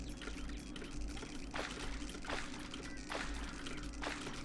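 Continuous splashing of falling water in the Terraria video game, a steady rushing pour with brief brighter bursts spaced a second or so apart, moderately loud throughout.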